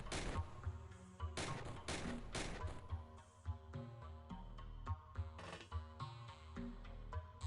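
Rapid bursts of gunfire in the X-piratez strategy game, several dense volleys early on followed by scattered shots and thuds over a steady low game-music bed.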